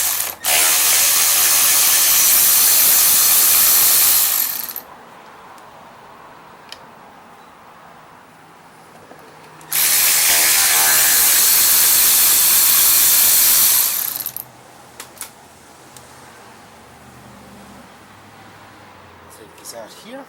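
Two long bursts of a power tool or ratchet backing out 5/16 screws beside the carburetor of a Craftsman 2700 PSI pressure washer, each lasting several seconds and loud and close, with quiet handling noises between them.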